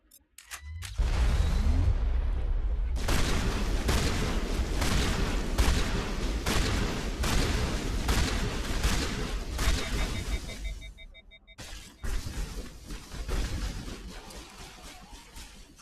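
Rapid gunfire crackles through a Mass Effect firefight, dense repeated shots and booms at high volume for about ten seconds, then a brief gap and more scattered blasts, with faint voices in the background.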